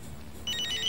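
A Nokia mobile phone rings out after a call is placed, a bright electronic ringback pattern starting midway through and repeating in quick pulses over quiet background.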